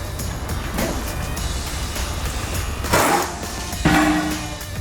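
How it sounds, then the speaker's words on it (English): Steady low mechanical hum of a vehicle lift lowering a new Ford F250 pickup in a shop, with a couple of brief louder bumps near the end. "So we're gonna go ahead and lower the truck so we can compress our spring and bolt in our limit strap."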